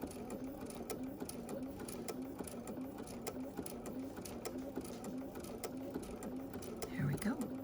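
A domestic sewing machine runs steadily while stitching a quilt, its motor hum and rapid needle clatter continuous and close, with a brief bump near the end.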